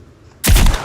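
A single loud, booming gunshot from the video game Sons of the Forest bursts out after a quiet moment and rings briefly as it decays.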